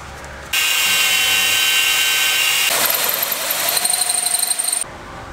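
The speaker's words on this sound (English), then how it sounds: "you're going to drill through both plates." A power drill bites through two steel plates on a snowplow mounting kit with a harsh, high-pitched whine, pitch shifting midway as it grinds through, stopping abruptly after a few seconds.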